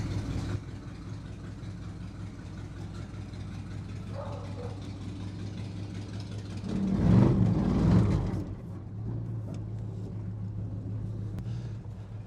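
A 1968 Dodge R/T pulled from a junkyard runs with a steady low engine rumble, swelling briefly louder as the car starts to move, then settling back to a constant idle-like drone; no one speaks.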